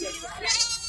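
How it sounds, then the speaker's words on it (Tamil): A young goat kid bleats at a busy livestock market, a short wavering cry standing out over nearby chatter and bargaining voices. "ஒரு ஆட்டுக்குட்டி."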